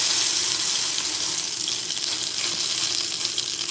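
Meat sears in a hot pan with a steady, loud broadband sizzle that holds evenly close up throughout, with no voices.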